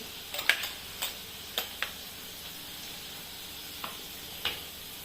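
Matar paneer masala with red chilli powder sizzles and is stirred in a pan: a quiet, steady hiss with a few sharp spatula ticks and scrapes scattered throughout, no voices.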